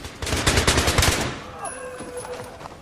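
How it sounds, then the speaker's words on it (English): A fully automatic gun in a video game fires a rapid burst of loud, close shots for about a second, then falls quiet into faint background game sounds. "Mandingo is going to tap fire fully automatic"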